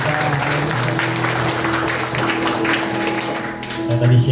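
A church congregation at a Sunday service claps together in a loud, sustained burst of applause, with a low musical hum and tones running beneath the clapping.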